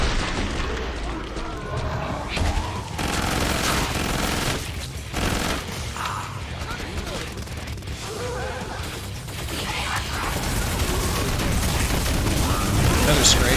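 Rapid gunfire and booming shots from a video game fill the whole stretch, dense and loud, with a voice speaking over the constant combat noise.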